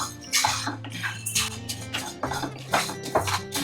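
Prawns dry-roasting without oil in a pan, stirred over a medium flame, giving scraping and clinking stirring strokes in an irregular rhythm with light sizzle, close and fairly quiet, no talk.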